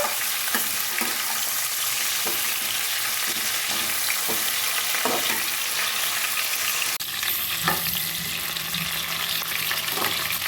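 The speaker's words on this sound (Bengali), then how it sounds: "কিছুক্ষণ উল্টে পাল্টে চর্বিটা একটু ভাজা ভাজা করে নেব" Mutton fat sizzling steadily in a hot pan as it is turned over and stirred, with scraping spoon strokes cutting through the constant frying hiss, close and fairly loud throughout.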